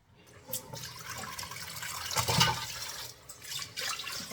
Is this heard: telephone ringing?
no